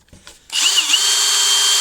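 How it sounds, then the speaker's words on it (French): A Tacklife two-speed cordless brushless drill whirs up to speed after a brief click and runs steadily at a high, even pitch, close and loud, with a slight dip partway through. "2 vitesses, bon, comme la plupart des perceuses"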